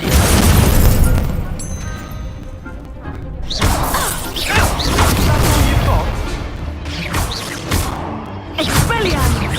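In Hogwarts Legacy, an Incendio fire spell erupts in loud, dense crashing blasts and whooshing bursts, one after another across the stretch. A voice shouts over the heavy, continuous roar of combat.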